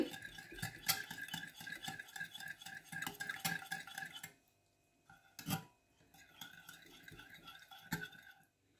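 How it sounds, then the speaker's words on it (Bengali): A spoon stirs and scrapes through a milk and egg mixture for bread butter pudding, making quick repeated clinks and rubbing scrapes against the bowl, with a brief pause midway before stirring resumes; close and fairly quiet. "আমি প্রায় 2-3 মিনিট পর্যন্ত এই মিল্ক এবং ডিমের মিশ্রণটাকে নেড়ে নেড়ে মিক্সড করে নিয়েছি।"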